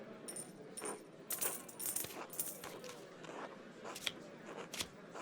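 Pennies tossed into the pot as the ante in a four-player card game in Pentiment, a run of small metallic clinks and scattered taps over a soft game ambience, with no talk.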